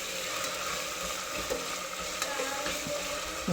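Curry frying in a pan as chili powder and salt go in, a continuous close sizzle broken by a few soft scraping stirs, with no one speaking.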